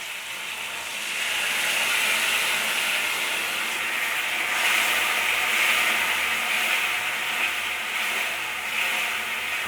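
Spice mixture frying in hot oil in a pan on the stove for a rohu fish curry, giving a steady, close, hissing sizzle that grows slightly louder and carries on without a break, with no talking.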